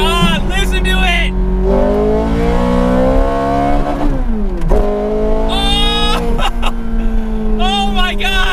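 A Ferrari F430 Scuderia with a six-speed manual, heard up close and loud as its engine revs climb and drop across several quick shifts, producing a harsh, metallic rising wail with sharp high bursts, and a voice speaking now and then.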